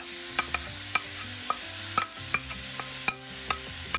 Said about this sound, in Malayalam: ഇനി ഞാൻ ഇതിലേക്ക് ടൊമാറ്റോ ചേർക്കുകയാണ്.